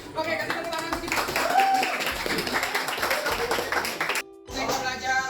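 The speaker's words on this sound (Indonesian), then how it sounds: "Oke, kasih tepuk tangan untuk kita." Students in a Year 10 high school classroom clap their hands together in a dense, steady round of applause lasting several seconds, with a brief lull near the end before clapping resumes, mixed with voices.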